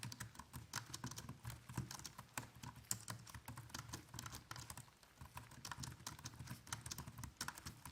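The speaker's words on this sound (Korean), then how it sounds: "다음은 일반 펜타그라프형 키소음입니다." Regular pantograph-style keyboard being typed on, a steady run of soft, quiet key clicks and taps with no talking.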